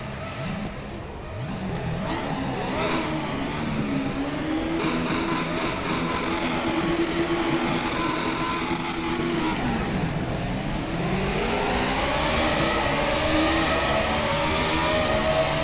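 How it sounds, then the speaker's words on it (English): Race car engine in the RaceRoom Racing Experience video game, a loud continuous high-pitched whine rising and falling through gear shifts, with a sharp dip and recovery partway through, no talk. "Sounds like Formula 1 though."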